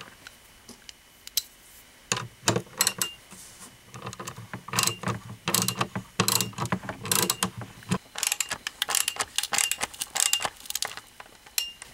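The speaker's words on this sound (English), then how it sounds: "Now we're going to tighten down the spanner nuts on each side." Spanner nuts on an SKS rifle's scout scope mount being tightened, giving close, repeated metallic clicks, taps and ratcheting scrapes in irregular bursts with no talk.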